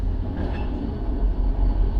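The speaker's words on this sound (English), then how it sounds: "Oh, there's a train." A train passes near a work site, a steady loud low rumble with faint clatter that fills the whole stretch without a break.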